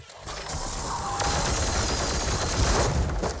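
Sustained volley of gunfire from Warhammer 40K: Chaos Gate - Daemonhunters, a dense, continuous burst of shots and impacts lasting several seconds at steady loud level.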